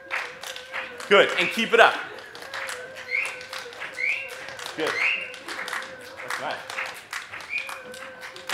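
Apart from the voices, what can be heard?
audience clapping a repeating rhythm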